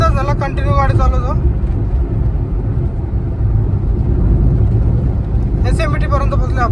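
A car cruising along the Samruddhi Mahamarg expressway, a steady low road and engine rumble with wind noise that holds constant throughout, while a voice talks briefly near the start and again near the end.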